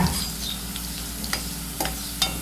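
Tempering spices sizzle and crackle in hot oil for mango dal, with a continuous frying hiss and a few sharp pops and stirring clicks; no talking.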